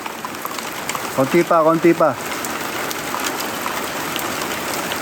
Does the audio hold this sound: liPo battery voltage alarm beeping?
no